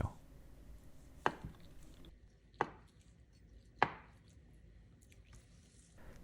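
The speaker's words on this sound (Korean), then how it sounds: "칼을 사용해서 적당한 크기로 썰어줄 겁니다" A knife cuts through tofu onto a board: three sharp, evenly spaced chops with quiet pauses between, close up and otherwise still.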